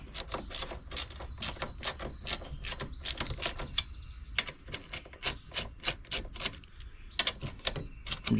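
Bolts on an axle hub of a Hammerhead MudHead 208R go-kart are tightened with a ratchet, a rapid series of close, sharp clicking strokes in uneven bursts with brief pauses between them, and no talking.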